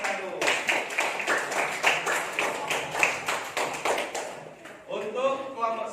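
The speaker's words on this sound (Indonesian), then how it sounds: "Tepuk tangan buat kelompok 1." A class of students in an Islamic studies lesson claps for group 1. The clapping is brisk and fairly rhythmic, with voices talking over it near the end.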